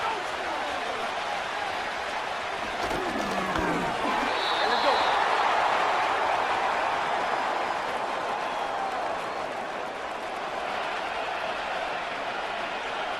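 Stadium crowd roar from a simulated Super Bowl LIX between the Chiefs and Eagles in Madden NFL 2025 on PS5 swells and holds steadily throughout, with commentators talking over it.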